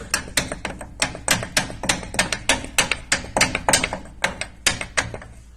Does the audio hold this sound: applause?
no